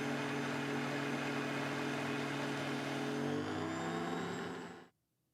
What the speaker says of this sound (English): The OmniBlend can whip cream.